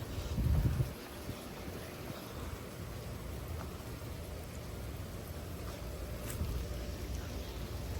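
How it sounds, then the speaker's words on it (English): Gusty wind from a severe thunderstorm with 45 mph gusts in Frisco, Texas, opening with a loud rumbling buffet against the microphone, then a constant low roar and hiss that swells again near the end. "The wind's picking up."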